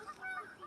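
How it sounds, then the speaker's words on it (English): Geese honking outdoors, a few faint nasal calls from some distance, thin and brief over quiet background. "There's some birds here."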